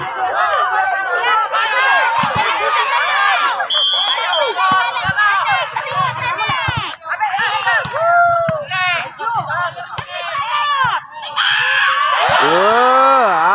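Volleyball players and spectators shout, scream and cheer almost continuously through a tense match, loud and close, with excited voices overlapping and swelling again toward the end.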